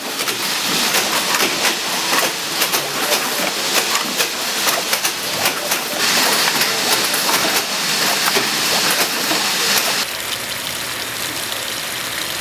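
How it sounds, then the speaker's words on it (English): An automated fish fin clipping machine in a trailer runs continuously, using imaging and mechanics to mark fins; a loud mechanical hum with rapid clicking and rattling, easing slightly near the end. "a computerized system that uses imaging and mechanics to mark fins"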